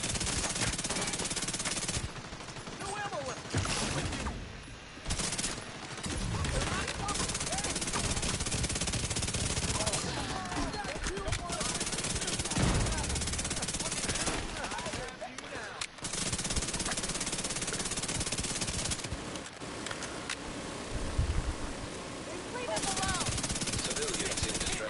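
Sustained automatic gunfire and scattered shots in The Division 2, a continuous loud burst-heavy firefight with brief lulls, overlaid by game effects and occasional voices.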